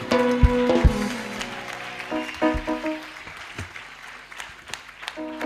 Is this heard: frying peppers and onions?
no